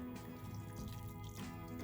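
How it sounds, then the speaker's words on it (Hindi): Salted water poured from a cup onto washed sabudana pearls in a bowl, a soft continuous trickle and splash, close and fairly quiet, with no talking. "अब मैं साबूदाने में डालूंगी 2/3 कप नमक का पानी।"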